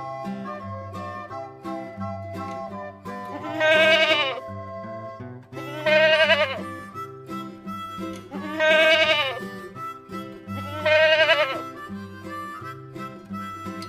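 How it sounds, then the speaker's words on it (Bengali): A young goat bleats four times at regular intervals, each cry loud and wavering, over a continuous musical backing from a children's alphabet song. "ছ ছয়ে ছাগল ছানা লাফিয়ে চলে।"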